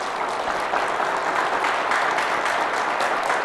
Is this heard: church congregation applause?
yes